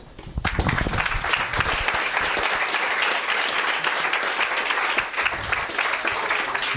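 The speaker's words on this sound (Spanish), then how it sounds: "Y un fuerte aplauso y os dejo con Alfonso López Borgoñoz y su charla." An audience at a talk on ancient astronauts bursts into loud, dense applause that holds steady and close for several seconds after a brief quieter start.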